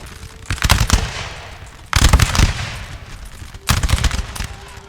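Musket and cannon fire from a Napoleon Total War battle, three loud rolling volleys of massed shots a second or two apart, each crackling burst fading into a low rumble.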